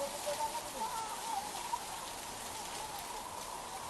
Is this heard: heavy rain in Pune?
yes